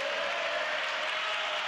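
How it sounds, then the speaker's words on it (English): Applause from an awards crowd honoring college athletes, an even, continuous patter of many hands in a big room, moderately loud with a thin steady tone beneath. "we can continue applauding"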